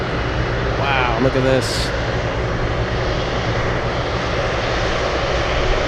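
Boeing 747 Dreamlifter taking off from runway 15 at Anchorage, a loud sustained jet engine roar that stays steady throughout, with a brief spoken remark near the start.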